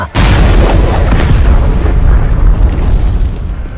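A wooden carriage bursts apart with a sudden loud crash that breaks into a dense, rumbling roar of splintering debris, continuing heavily for several seconds.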